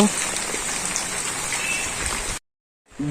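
Heavy rain pours down in a dense, steady hiss on a rural farmstead where cattle shelter in a shed, broken by a brief gap of silence before resuming.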